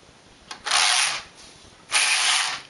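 A knitting machine carriage is pushed across the needle bed for two rows of a zigzag pattern with tucks, giving two separate rasping, whirring passes with a short pause between them. The sound is fairly close and heard alone.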